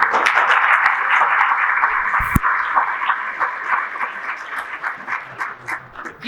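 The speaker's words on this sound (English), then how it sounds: "You guys make me feel like such a celebrity when you clap every time" Crowd clapping at a Las Vegas Metropolitan Police community event, a loud sustained round of applause with one sharp thump midway, thinning into scattered claps toward the end.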